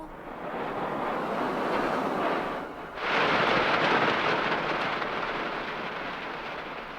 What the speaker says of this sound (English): Just listen to that storm.